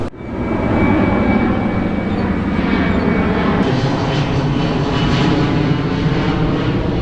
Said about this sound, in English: There's an airplane flying over because the airport's actually located very close to here.